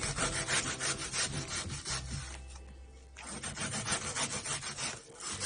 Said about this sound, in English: slice through horizontally like this